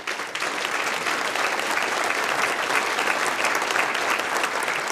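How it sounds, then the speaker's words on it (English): Sustained, dense applause fills an awards-luncheon audience at the Kiwanis Club of Indianapolis Abe Lincoln Awards, steady and loud from start to finish with no voices over it. "That deserves a round of applause,"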